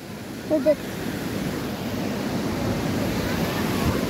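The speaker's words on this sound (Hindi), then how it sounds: "जैसे कि अब ये पानी इतनी तेज़ी में बह रहा है" Fast-flowing water, a steady broad rushing wash that holds loud throughout the clip, with a brief faint sound near the start.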